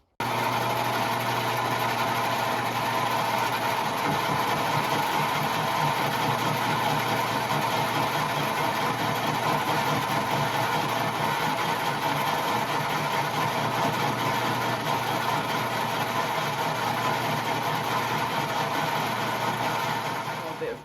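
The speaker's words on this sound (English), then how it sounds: "whack this into the lathe and just face both ends" A metal lathe faces both ends of a stub axle for a Motostandard 1010, its motor running as a loud, steady, even whine and hum from start to finish with no pauses.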